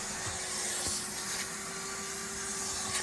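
A shop vac converted into an extractor, fitted with an upholstery tool, pulls steadily across a car seat, its broadband suction roar constant and close with slight rubbing as the tool passes back and forth.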